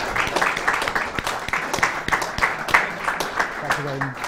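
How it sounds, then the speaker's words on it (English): Audience applause for student union leadership election candidates after a campus debate, a steady patter of many hands clapping at moderate volume, with some voices mixed in. "Should we give them a round of applause to say thank you for their participation?"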